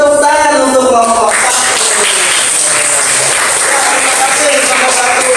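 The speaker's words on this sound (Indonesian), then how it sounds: "kita beri tepuk tangan untuk kelompok" Classroom group gives steady applause for the first presenting group, close and continuous, with a voice talking over the start.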